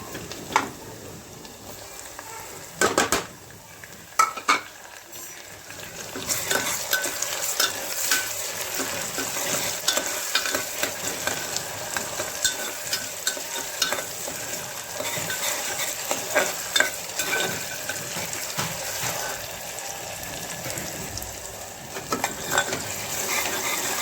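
Onion and tomato fry in oil for a pressure-cooker mutton biryani, a soft, steady sizzle broken by a few sharp clinks of a spoon against the pot and light stirring throughout.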